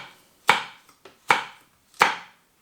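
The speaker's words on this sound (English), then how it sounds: "I'm going to guess that we're going to want about half of this chilli, so finely slice it" A knife finely slicing a chilli on a cutting board, three or four sharp close chops spaced about half a second apart, no talking.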